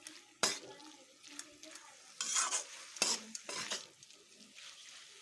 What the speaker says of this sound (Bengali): এইভাবে একটুক্ষণ আমি কষিয়ে নেব।